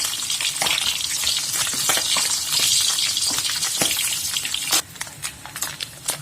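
Fish frying in hot oil until crispy, a loud steady sizzle with sharp spattering pops, and a clack from the pan midway through.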